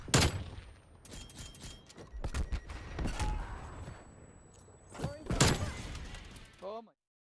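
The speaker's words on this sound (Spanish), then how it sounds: "Incoming flashbang." A flashbang grenade goes off in Call of Duty: Black Ops Cold War amid scattered gunfire: sharp, loud bursts and thuds spread across a fairly quiet stretch, with occasional game voice lines.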